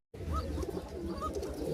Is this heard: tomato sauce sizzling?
no